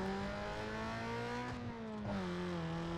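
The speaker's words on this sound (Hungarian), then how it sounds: "De az a kipufogó!" A tuned street car's exhaust in Need for Speed Underground 2 roars steadily, dipping briefly as if shifting gear, then climbing again, loud and close with no voices.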